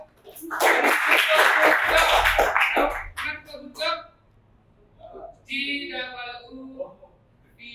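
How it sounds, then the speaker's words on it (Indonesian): Students in a classroom clap together in a short loud burst lasting about two seconds, then it breaks off into scattered voices and a few lively spoken calls. "beri tepuk tangan dulu"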